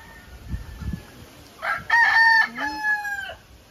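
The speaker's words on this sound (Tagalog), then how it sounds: "Ang dami niyang manok dito." In a backyard with many chickens, a rooster crows loudly and nearby, preceded by a few soft clucks from hens.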